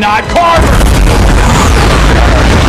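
A sudden loud bomb explosion bursts out after a short voice, followed by a sustained roaring rumble that fills the rest of the moment.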